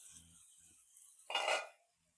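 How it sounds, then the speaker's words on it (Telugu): Chicken tikka pieces flipped in a frying pan with a lid set on top: faint sizzle and a couple of soft scrapes, then one brief bright metallic clatter as the lid lands, fading back to quiet frying. "నెక్స్ట్ ఇంకో వైపు టర్న్ చేసి లిడ్ పెట్టేసి మళ్ళీ ఫ్రై చేసుకోవాలి"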